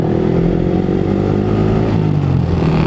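A motorcycle engine rumbles close by at a busy night hangout, a loud, steady low-pitched drone with a slight rise in pitch as it revs, and no talking.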